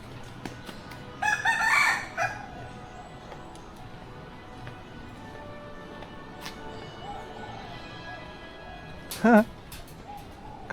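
Roosters crowing in an outdoor bird park in Phuket, Thailand, with one crow early on and a short second call near the end, over steady background ambience.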